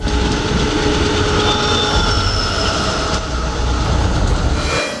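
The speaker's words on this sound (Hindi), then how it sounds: "एक ट्रेन की सैर कराई, मेट्रो रेल" Metro rail train running in a dramatized TV crime drama scene, a steady loud rumble of wheels and carriage noise that continues without break, with no talking.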